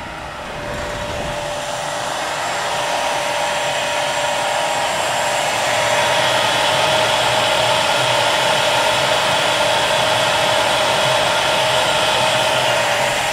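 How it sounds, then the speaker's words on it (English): CNC router spindle on a parallel planer speeding up toward 22,000 RPM: a loud, steady whine and rushing hum that ramps up over the first few seconds and then holds, with no talking. "That other noise was the router going up, or the spindle."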